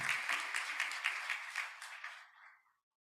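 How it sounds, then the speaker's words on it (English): An audience at a winter commencement ceremony applauds a soloist before the national anthem, with dense, fairly distant clapping that carries on steadily, then thins and fades to silence near the end. "Give God a hand clap for her wonderful voice too."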